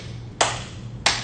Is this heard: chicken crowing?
no